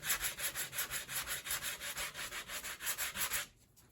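Rhythmic back-and-forth scraping of black sandpaper rubbing a layout fascia, about twenty quick even strokes up close, stopping abruptly near the end.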